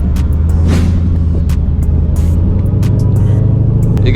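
Whipple supercharged Jeep Grand Cherokee Trackhawk idling with a deep, steady, loud rumble heard from inside the cabin, punctuated by occasional short clicks.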